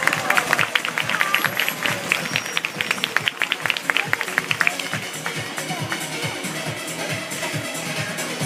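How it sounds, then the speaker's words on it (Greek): Dolphins at an Attica marine park show slap out a rapid run of wet, clapping smacks for the audience, with crowd noise and a voice over a public address under them. "Και ένα χειροκρότημα από τα δελφίνια για εσάς."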